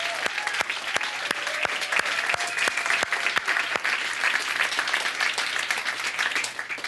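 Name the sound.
applause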